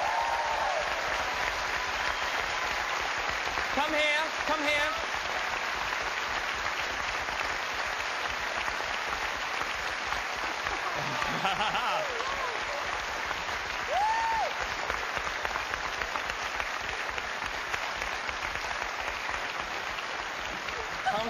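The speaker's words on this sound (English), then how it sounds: "give her a round of applause" Live audience at a Derby show applauding steadily for a woman in pink called up from the crowd, a dense broad wash of clapping throughout, with a voice calling out over it.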